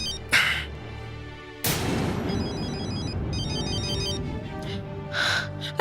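A phone rings with an incoming call in a TV drama scene: a melodic electronic ringtone that repeats steadily over several seconds, preceded by a sharp bang, with short bursts of other sound around it.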